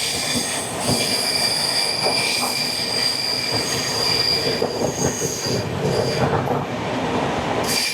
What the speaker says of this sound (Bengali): আমাদের ট্রেন এই মুহূর্তে এসে পৌঁছালো তার যাত্রাপথের আরও একটা গুরুত্বপূর্ণ স্টেশন নিউ কুচবিহারে